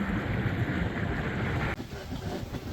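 A sailboat under sail on open ocean swells between Fiji and New Zealand, with a steady broad wash of wind and water rushing close by.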